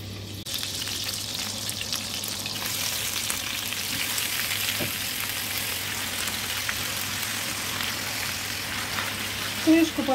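Potatoes seasoned with turmeric fry in an uncovered pan in a home kitchen, giving a steady, close sizzle that runs unbroken throughout with a brief clatter near the end.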